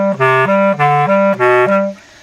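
A bass clarinet plays a short phrase from a fast etude, loud and close, with a few sustained notes stepping between pitches in a clear melodic line, solo with no accompaniment.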